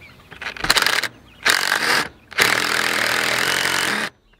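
A power tool drives a bolt on a chicken coop wheel: three loud bursts of whirring, the last held steady for about a second and a half before cutting off, with gaps of near quiet between them.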